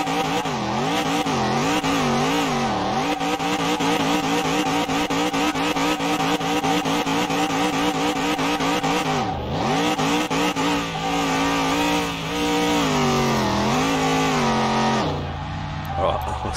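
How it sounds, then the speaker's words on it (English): A powerful car spins its wheels at high speed in third and fourth gear, its engine roaring loud and close with rising and falling revs and tire squeal throughout, a voice talking over it. "It's still spinning the wheels in third and fourth gear, so that's showing you how much power this thing has got."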